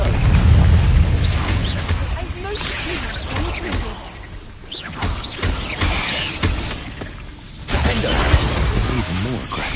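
Confringo blast spell explosions in the video game Hogwarts Legacy, loud booming bursts with whooshing swishes and crackling debris, recurring through roughly ten seconds of dense combat noise, with a voice shouting spell names over it.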